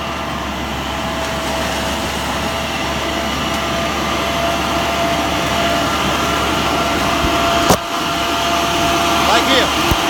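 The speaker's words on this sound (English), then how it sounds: "take a closer look to the wind machine what takes the leaves out" The wind machine of a Shake & Catch harvester working an apple orchard blows leaves out, a loud, steady roaring rush of air with a constant low mechanical drone and an occasional sharp knock.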